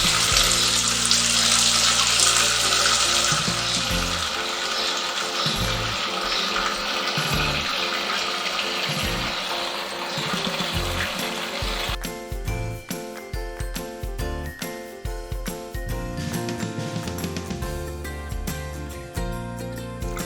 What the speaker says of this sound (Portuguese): Nessa hora a gente joga um pouquinho mais de água para poder fazer a lavagem dos grãos.